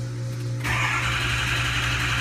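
A diesel engine with a newly replaced injector cranks and catches, jumping from a low hum to a loud, slightly rough running idle in a couple of seconds.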